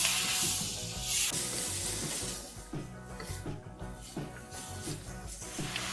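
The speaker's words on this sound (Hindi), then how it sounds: "जब वेजिटेबल्स को हम स्टर फ्राई कर रहे हैं तो हम उसी दौरान इसमें 1 क्यूब चिकन का ऐड कर देंगे।" Vegetables stir-frying with a chicken stock cube for Chinese fried rice, giving a soft, quiet sizzle broken by repeated scraping stirs of the spatula at a steady, unhurried rhythm.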